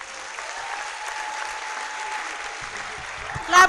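Audience applause after an inaugural lecture at the University of Benin, a steady wash of many hands clapping that holds evenly throughout, with a brief louder burst at the very end.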